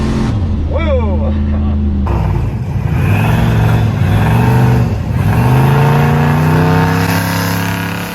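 A turbocharged car races a Range Rover SV, with loud engine roar rising through repeated gear pulls. Voices talk over the sustained acceleration.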